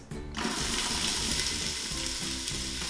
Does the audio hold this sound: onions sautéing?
yes